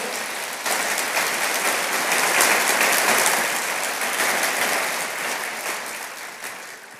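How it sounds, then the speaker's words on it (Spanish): A church congregation breaks into strong applause during a sermon, a loud, dense wash of clapping that starts abruptly and holds steady for several seconds before easing slightly. "Dele fuerte ese aplauso al Señor."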